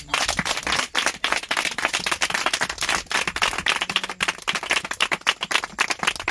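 A church congregation in Benin claps steadily at a cell consecration service, dense rhythmic handclaps filling the space continuously and loudly, with no voices standing out.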